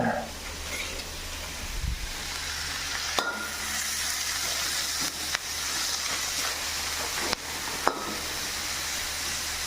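Food caramelizes in a hot pan during home cooking in Indonesia, giving a steady close frying sizzle and hiss throughout, with a few light clinks of stirring.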